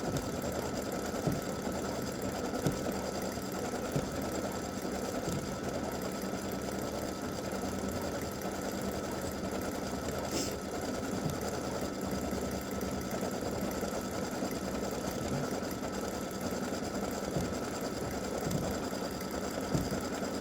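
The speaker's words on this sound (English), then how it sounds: "it should just continue stitching" Embroidery machine stitching a Christmas bow earring design, a steady continuous mechanical whir with a faint rhythmic needle patter running throughout, close and alone without speech.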